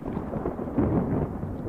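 Deep, continuous thunder rumble from an animated film storm, a steady low roar that swells slightly midway and sounds moderately loud without any speech.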